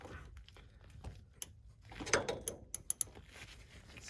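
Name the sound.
socket wrench loosening filler plug on Yamaha Viking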